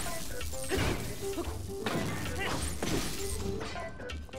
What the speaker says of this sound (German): Ach gut, dass meine Waffe zerbrochen ist.